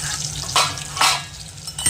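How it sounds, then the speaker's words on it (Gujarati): Mustard seeds, cumin and garlic hit hot oil for a tadka for dry methi curry, a loud close sizzle that swells in short bursts as ingredients are added and stirred. "તેલમાં મમ્મી નાખી રાઈ, જીરું અને લસણ વઘારવા નાખવાનું."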